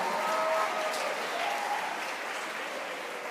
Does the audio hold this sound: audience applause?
yes